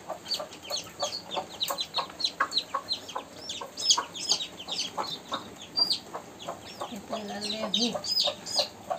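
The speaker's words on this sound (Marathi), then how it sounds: "बोसरी कोंबडी आहे" A domestic hen clucks repeatedly in a farmyard among chicks, a run of close, rhythmic clucks and chirpy peeps with some soft voices in the background.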